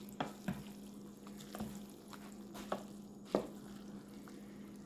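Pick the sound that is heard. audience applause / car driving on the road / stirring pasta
stirring pasta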